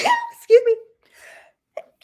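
A single sharp sneeze bursts out at close range amid casual conversation among several people, with talk resuming right after it.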